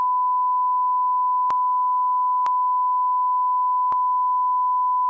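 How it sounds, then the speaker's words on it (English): A single long, steady censor beep, a pure electronic tone, runs unbroken through the whole stretch, loud and alone, with a few brief clicks cutting across it. "you probably just heard a long beep because I accidentally said a spoiler"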